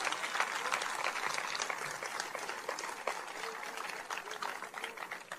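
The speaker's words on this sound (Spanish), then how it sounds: "Denle un aplauso al Señor Jesucristo" A church congregation at an evangelical service applauds steadily for several seconds, a dense, even wash of many hands clapping at a moderate, slightly distant level.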